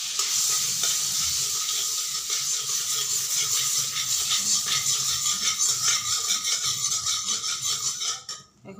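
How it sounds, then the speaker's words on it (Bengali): Butter melts in a hot wok (kadai) with a steady, bright sizzle that runs almost the whole way before cutting off abruptly near the end, with no talking. "কড়াইতে প্রথমে আমি দিয়ে দিচ্ছি বাটার।"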